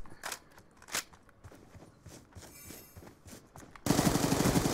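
Gunfire in the video game Black Ops 2: a run of sharp shots and bursts with quick footsteps in between, then a loud, dense burst of sustained firing close by at the end.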